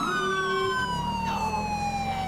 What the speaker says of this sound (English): I'm sure eventually that noise will get kind of annoying, but I kind of like that siren.